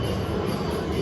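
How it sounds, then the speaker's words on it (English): A Melbourne tram passes close by at night in the city, giving a loud steady rumble of wheels on rails with no talking. "we're going to catch the tram to Carlton again"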